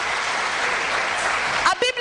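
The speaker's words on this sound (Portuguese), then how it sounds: "Aplauda Jesus" A church congregation claps for Jesus during a sermon, a steady wash of applause that ends abruptly as a voice cuts in.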